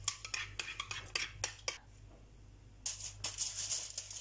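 A spoon clinks and scrapes against a bowl in quick bursts, mixing 100 g of 15% fat sour cream with one egg; the stirring is close and fairly quiet, with a brief pause in the middle.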